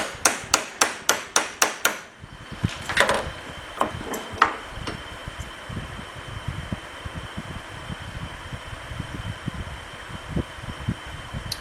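A hammer taps a u-joint cap into a Dana 30 axle yoke, with about eight quick, sharp metallic strikes in a steady rhythm, then a few scattered louder knocks over a quiet workshop background.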